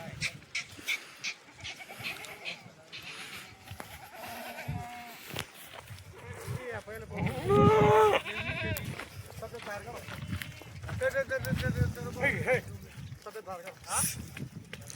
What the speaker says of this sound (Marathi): हे बघा आता मिसाळ दादांना शेळ्या दाखवतो तुम्हाला इथं.